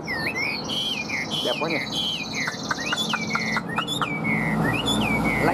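A tame yellow-legged, yellow-billed songbird sings close by, a string of bright whistles, trills and sweeping notes, with a person briefly talking over it.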